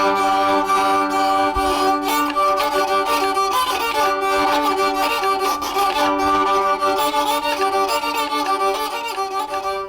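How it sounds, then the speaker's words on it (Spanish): A moraharpa, the medieval Swedish keyed fiddle, is bowed with several strings sounding at once, giving a steady, droning, richly harmonic melody that plays loud and close without pause for the whole stretch. "Este es una morarpa,"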